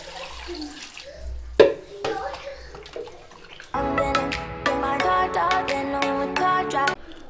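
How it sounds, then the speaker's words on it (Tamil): Water pours and splashes over raw chicken being rinsed outdoors in a forest near Kodaikanal, a running, sloshing wash that grows steadier in the second half, with faint background sounds. "இப்போ தண்ணி ஊற்றி அலச போகிறோம்."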